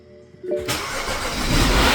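A rebuilt N55 engine in a BMW X5 cranks briefly then fires and catches, rising into a loud close steady idle roar that fills the rest of the moment.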